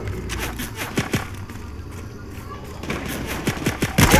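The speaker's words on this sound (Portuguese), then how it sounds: "Atirando em mim, caramba!" Gunfire in the Fortnite battle royale: a few sharp shots in two clusters, near and fairly loud, over busy game noise with a player talking excitedly.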